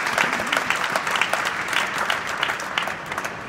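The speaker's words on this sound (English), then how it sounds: "Give yourselves a big round of applause." Audience applause during a Black History Month celebration at the Kentucky House, a sustained wash of many hands clapping at moderate distance, even and unbroken for several seconds.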